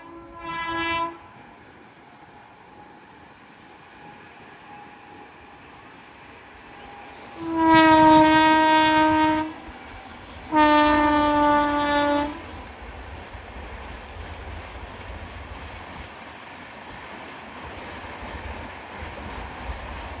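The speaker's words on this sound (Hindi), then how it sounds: "इसके बाद नंबर आता है 12955 मुंबई जयपुर सुपरफास्ट का।" The 12955 Mumbai Jaipur Superfast train passes Arnetha at speed with a steady rail roar, a short horn toot early, then two long, loud horn blasts in succession, with no talking.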